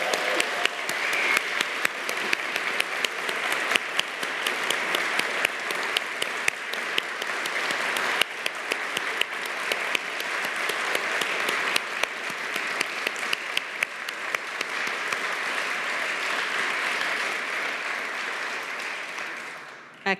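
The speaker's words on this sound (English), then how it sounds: "let's hear a wonderful, rousing round of applause for all of the innovators featured here today." Sustained applause from an awards ceremony audience, dense and steady clapping throughout with a few sharper claps standing out, fading briefly at the very end.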